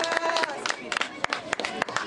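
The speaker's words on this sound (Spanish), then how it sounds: "Un aplauso para Karen." Scattered applause from a crowd at a children's running race for Children's Day, honoring the young girl who won. Irregular claps mix with voices and general crowd noise outdoors.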